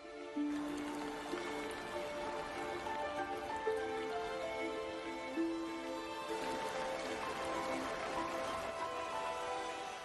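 Rain falling in the Amazon rainforest of Ecuador, a faint, even patter of drops across the whole stretch with soft tonal layers running beneath it.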